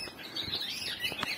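Small aviary birds chirp in quick, high bursts over a steady faint background, several short tweets scattered through the moment with no voices; the birds are partway through their moult.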